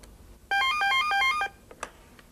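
A telephone rings for an incoming call with a single electronic burst of rapidly alternating two-tone trills lasting about a second, followed by a couple of faint clicks.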